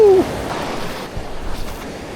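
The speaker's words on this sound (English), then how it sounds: "the tide's coming in pretty fast" Ocean surf and an incoming tide washing onto a North County San Diego beach, a steady broad rush that swells and eases, with some wind noise on the microphone.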